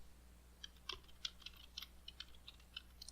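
Light, scattered keystrokes on a computer keyboard during circuit-board design software work, faint and close with uneven rhythm over quiet room hum.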